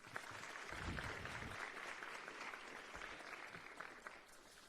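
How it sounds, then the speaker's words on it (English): Applause from a summit audience honoring a government minister: steady, dense clapping fills the room for several seconds, easing slightly toward the end. "Can we kindly give the minister a warm round of applause?"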